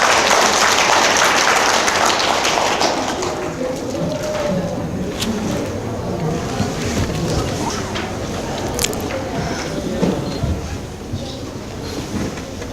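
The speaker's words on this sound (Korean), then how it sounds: "큰 박수로 부탁드리겠습니다" Audience applause welcoming a lecture speaker at a talk on modern art, a loud wash of clapping at the start that fades into a lower murmur of room noise with scattered sounds.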